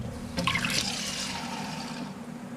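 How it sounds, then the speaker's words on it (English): Water pours into a measuring cup with a soft, steady splashing trickle that fills and then settles, close by and fairly quiet. "They fill up water into the cup and they look at it."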